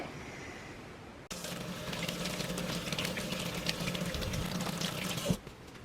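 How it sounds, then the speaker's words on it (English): Hands are washed under a running kitchen tap: after a quiet start, water suddenly gushes in a steady, close splashing stream that cuts off near the end. "Okay, you have to wash your hand. You have to wash your hand real good."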